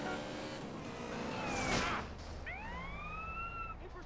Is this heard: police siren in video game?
yes